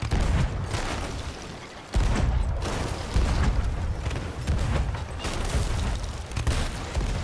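Repeated heavy booms of ship cannon fire in the game Sea of Thieves, rumbling one after another in a dense barrage with dull thuds throughout.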